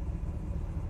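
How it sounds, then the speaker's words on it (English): A 1966 Pontiac GTO engine runs just after starting, giving a steady low rumble that is close and unbroken through a short stretch with no talk over it. "We just started the car."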